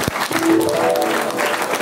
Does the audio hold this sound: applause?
yes